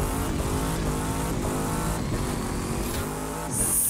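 Dodge Viper drag car in The Crew 2 launching from the line, a loud continuous engine roar with harmonic whine held steady for several seconds, ending in a brighter hiss of tire noise.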